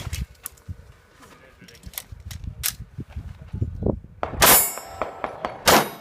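Pistol shots ringing off steel targets at an action pistol competition, sharp bangs followed by metallic clangs and pings, with a voice talking between shots and clattering handling noise.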